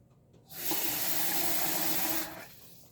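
Water running from a tap into a pot while cooking a Japanese rice bowl, a steady hissing gush that starts abruptly, holds for under two seconds, then stops.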